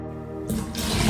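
Clean water pours into a pot for an onion and garlic broth, a short, bright splashing stream that starts after a brief quiet moment and grows fuller and louder.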